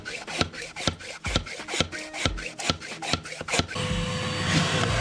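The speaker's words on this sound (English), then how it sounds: "And then give it a brush out." Brushing out a drilled masonry hole for a resin anchor bolt, a quick series of close, rhythmic scrubbing rasps, each stroke a short gritty burst, followed by a steadier, noisier rushing.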